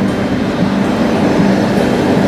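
Amrit Bharat Express train at Malda Town station, a steady loud rumble with a low engine drone and faint rail noise, continuous and close, with no talk.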